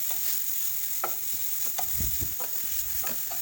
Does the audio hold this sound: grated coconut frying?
yes